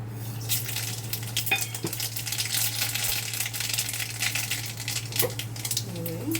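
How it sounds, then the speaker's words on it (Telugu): Tempering spices crackle in a hot kadai on a gas stove, giving a steady, soft sizzle with a few faint metallic clinks. "ఇప్పుడు పోపులు వేసుకుందాం"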